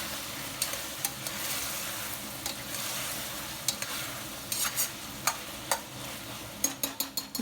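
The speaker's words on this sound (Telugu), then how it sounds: "ఇది ఆయిల్లో బాగా మగ్గనివ్వండి" Goat head meat frying in hot oil in a pan, a steady sizzle throughout with occasional clicks and scrapes of a spoon stirring, growing busier toward the end.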